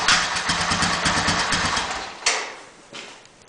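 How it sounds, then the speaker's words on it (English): A Honda ATV engine labors against a sticking rear drum brake, revving loud and rough with a throbbing low pulse, then bogging down and dropping away to a quieter idle near the end. "The engine can barely overpower the sticking of that brake."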